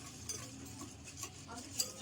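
Spoon stirring jaggery into milk in a bowl to dissolve it for a wheat-flour cake, giving faint, soft scraping and light clinks of utensil against the vessel at an irregular pace.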